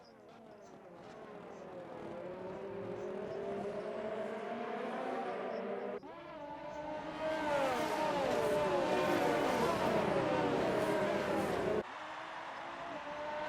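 Formula 1 race car engines in the F1 2019 game at Bahrain roar and whine at high revs, with a loud, buzzing sweep rising and shifting as cars pass close, under commentary voices.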